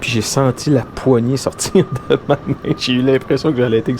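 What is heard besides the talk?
No everyday noise stands out behind the speech.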